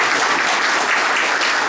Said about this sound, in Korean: 우리 나창현 작가님을 박수로 맞아주십시오.